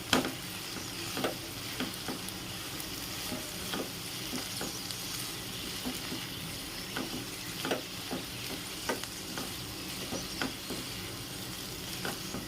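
Ivy gourd slices fry in oil with coriander powder in a pan, a continuous soft sizzle broken by regular scraping stirs from a spatula, close and fairly quiet.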